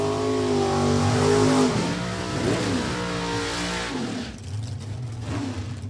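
A Chevy II and a Vega, economy cars turned drag racers, launch and accelerate hard down a New England dragstrip, engines roaring loud and close with rising revs before the sound thins out as they pull away.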